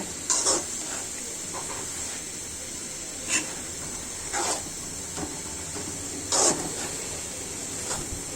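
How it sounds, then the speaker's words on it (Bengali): Cabbage fries with boiled chicken in a pan, a soft steady sizzle broken by several brief scraping stirs of a spatula at irregular intervals. "অল্প মাংসে মুরগির মাংস দিয়ে আমি বাঁধাকপিগুলো ভেজে নিচ্ছি"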